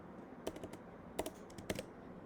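Keys on a computer keyboard are typed in three quick, quiet bursts of clicks, each a few light taps, set against a faint steady room hiss.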